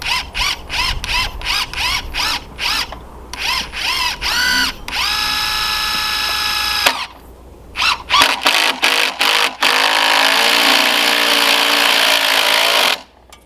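A power tool drives fasteners during a garden build with rapid ratcheting bursts, a sustained whirring run, then more short clicking bursts and a long grinding spin, loud and close with no talk.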